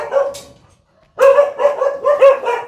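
A male dog on a farm barks close by, first a short yip, then after a pause a rapid run of several loud, bright barks.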